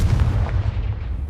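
The Confringo fire blast spell in the Hogwarts Legacy video game lands as a short, dull, booming impact with a rumbling low-end burst that fades over about a second.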